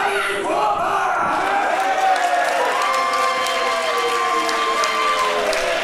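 A wrestling arena crowd reacts to Sammy Guevara's ring entrance with a loud, steady roar of mixed cheers and shouting. Whistles and sustained tones rise above the noise.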